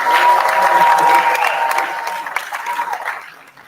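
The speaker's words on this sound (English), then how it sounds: "it's applause for these two coaches around the" An audience claps steadily, loud at first and then thinning out and fading toward the end.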